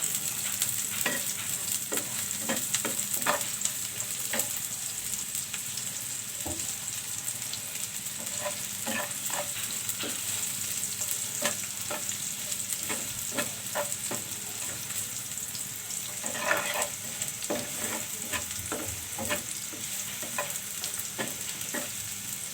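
Sliced onions sizzle steadily in hot mustard oil while a utensil scrapes and stirs the pan in irregular clicks and taps; close and alone, with no talk.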